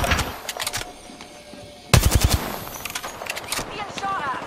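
Automatic weapon fire in the Apex Legends shooter game, with several short bursts of rapid shots, the loudest volley in the middle, over game sound effects and a faint synthetic voice.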